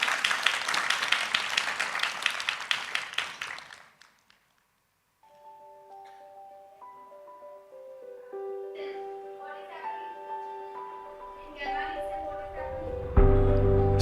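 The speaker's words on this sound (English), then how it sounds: "Let's give him a big round of applause" An audience at a launch event applauds for about four seconds with a full, even clatter of claps, then falls silent before soft sustained musical tones rise.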